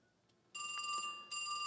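A Panasonic KX-TA824 analog PBX phone redials the last number, giving two bursts of steady electronic ringing tone separated by a short pause, fairly loud and alone.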